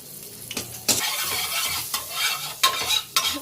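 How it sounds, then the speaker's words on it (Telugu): Butter sizzling on a flat pan on a stove, a steady hiss broken by several sharp spatula scrapes and knocks at an uneven pace, close and fairly loud. "స్టవ్ పైన పెనం పెట్టాను. బటర్ వేస్తున్నాను."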